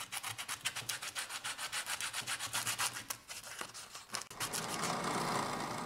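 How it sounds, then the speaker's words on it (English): Hand sanding and polishing of a small hardwood box, a steady rapid rubbing that holds close and fairly loud, then shifts to a smoother, continuous buffing hiss. "And this is final polishing."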